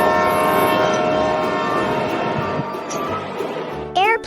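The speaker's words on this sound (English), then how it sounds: "Train." A train rumbles past in a dense, continuous roar, then its whistle or horn sounds with a short rising blast right at the end.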